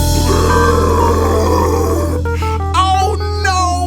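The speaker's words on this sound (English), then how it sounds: "You burped again." A long, loud, low grunting burp rumbles for about two seconds, followed by voiced, croaky sounds.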